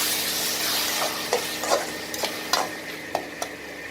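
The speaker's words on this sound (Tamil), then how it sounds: "இந்த மிளகாத்தூளை நல்லா கலந்து விட்டுட்டு" A spoon stirs chili powder into tomato thokku frying in a pan for a Chettinad-style dish, with a steady sizzle under a series of distinct scraping strokes.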